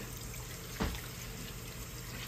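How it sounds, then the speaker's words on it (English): Tap water runs steadily into a pot for gravy-making, a constant close rushing hiss with a brief clunk partway through and no talking. "we're gonna fill this up with water"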